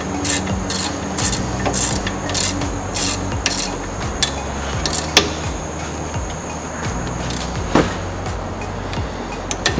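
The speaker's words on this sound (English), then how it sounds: "Normally I'd be standing here, but I'm going to ratchet that in." A hand ratchet tightening small brake bolts during a brake job, its steady rasping clicks repeating in a quick, even rhythm for the whole stretch, close and continuous with a few sharper knocks.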